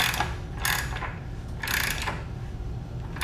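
A wrench snugs a motorcycle's rear wheel axle nut while the wheel is held under tension, giving a few short ratcheting clicks in bursts with no voices.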